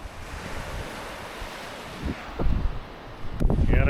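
Sea waves wash onto a cold, windy British beach, with a steady roar of surf and wind buffeting the microphone. A few louder wave surges come toward the end.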